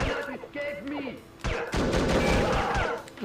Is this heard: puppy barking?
no